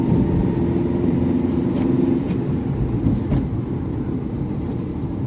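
A car engine hums steadily and loudly throughout a driving lesson, its low drone holding fairly constant with a slight rise in effort, with no talk over it.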